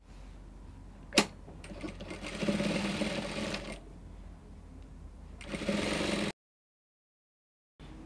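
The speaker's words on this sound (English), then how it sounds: "Then you get to the middle, you keep the needle in, then you rotate the fabric, and then you sew across to the other side." A sewing machine stitches fabric for a princess-dart bustier dress with a sweetheart yoke, running in two steady bursts with a pause between them while the fabric is turned. A sharp click comes near the start.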